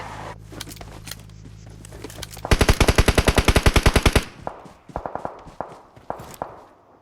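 Rapid automatic gunfire in a video game, a loud close burst of about twenty evenly spaced shots lasting nearly two seconds, followed by scattered footsteps and lighter impacts.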